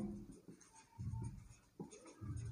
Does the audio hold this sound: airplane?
no